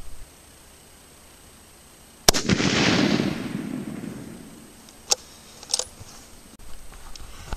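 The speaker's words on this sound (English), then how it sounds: "So I'm going to have to shoot at 100 yards and see where I'm hitting." A rifle fires a single loud shot at a 100-yard target outdoors, with a sharp crack and a long rolling echo, followed a few seconds later by a couple of faint clicks.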